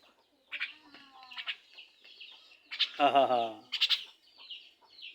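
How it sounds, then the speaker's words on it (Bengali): Sparse common myna chirps and squawks while the birds eat, coming in short bursts near the microphone, with quiet gaps between calls. "মিঠু আর ময়না খাওয়া শুরু করে দিছে"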